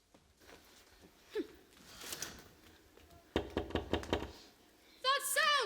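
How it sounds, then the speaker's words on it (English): A rapid series of about eight firm knocks on a door, close by, in a stage play, follows quiet rustling, and then a voice begins talking. "someone knocking at the door"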